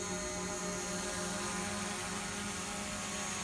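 A DJI Mavic Pro drone in flight makes a steady, dense buzzing whine with constant tonal hum that fills the whole stretch at close range.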